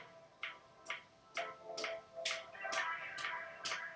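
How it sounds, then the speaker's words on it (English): Hand claps during an abs workout exercise, about nine faint, evenly spaced claps in a steady rhythm roughly twice a second, with no voices. "You should be able to hear my claps."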